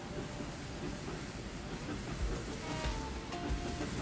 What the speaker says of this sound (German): der Dampfzug wird jetzt über die Brücke fahren